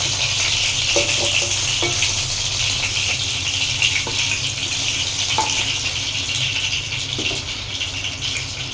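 Green chillies fry in a pan for tomato chutney, giving a steady, close, continuous sizzle with a few faint clicks and no voices.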